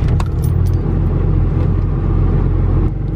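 A car engine runs at high idle right after a cold start on a 28-degree morning, with a steady, close, loud low rumble and a brief jangle of keys at the start.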